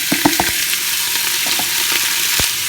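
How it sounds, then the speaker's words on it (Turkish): Half a kilo of meat sizzles loudly in hot sunflower oil inside a pressure cooker. A dense, steady frying hiss runs throughout, broken by a few sharp crackles and pops near the start and end. "Ve şöyle yarım kilogram etimi üzerine ilave ediyorum."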